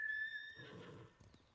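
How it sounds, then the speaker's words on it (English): A horse in the video game Ghost of Tsushima gives a single faint whinny, a high wavering neigh that drops into a breathy snort, heard alone without talk. "Oh, now my horse is all... Oh, he's mad? I got a jealous horse."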